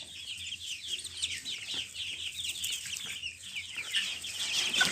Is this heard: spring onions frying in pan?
no